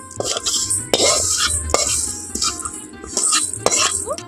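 Roasted sesame seeds tipped from a pan into a bowl, with light scraping, stirring and clinking of metal against metal in short repeated strokes, close and moderately loud.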